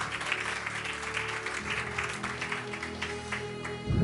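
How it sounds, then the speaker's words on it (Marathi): A congregation at a church prayer centre claps together in a dense, steady burst that swells briefly near the end, heard from within the hall with no voices over it. "जरा जोरदार टाळ्या प्रभूच्या गौरवासाठी."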